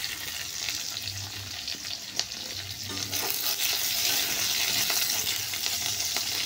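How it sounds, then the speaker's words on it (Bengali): Carrots and potatoes fry in a pan with a steady, close sizzle and crackle, scraped now and then by a utensil stirring and clinking against the metal; the frying grows a little louder partway through, and no one talks. "এইবার গাজরটা একটু ভাজা ভাজা হতে হতে আমি আলু ছেড়ে দিয়েছি"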